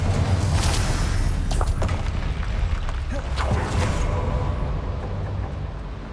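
A Confringo spell explosion in Hogwarts Legacy, heard as a loud, close, rumbling boom with sharp bursts over it that fades toward the end, with no voices.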